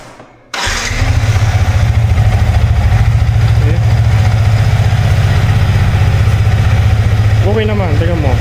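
A Yamaha MT15 v2 motorcycle engine starts abruptly, then settles into a steady, loud, close idle with a throbbing low rumble, with a brief voice near the end.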